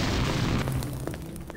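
A rocket explosion in Garry's Mod: a deep, muffled boom rolls out and fades, followed by scattered smaller crackles and debris-like pops.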